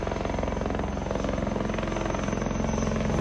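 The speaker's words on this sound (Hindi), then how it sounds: "ये देखो भाई वो हेलीकॉप्टर" An Indian Army helicopter flies low overhead on a hill route toward Badrinath, its rotor making a steady, loud, rhythmic chopping beat throughout with no voices.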